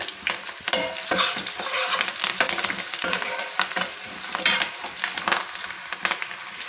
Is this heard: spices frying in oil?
yes